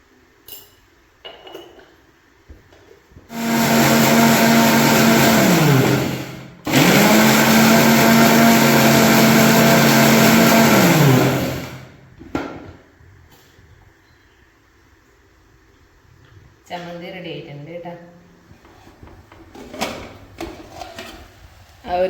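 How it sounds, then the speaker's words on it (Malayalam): A mixer grinder blends grated coconut with salt in two loud bursts of about three and eight seconds, separated by a brief pause, followed by lighter clinks as the jar is handled. "ആവശ്യത്തിൻ്റെ ഉപ്പും കൂടി ചേർത്തിട്ട് നന്നായിട്ടൊന്ന് അരച്ചെടുക്കുക"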